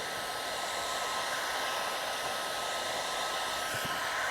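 A heat gun blows hot air over vinyl car wrap film, a steady unbroken whooshing roar close by, alone with no voices.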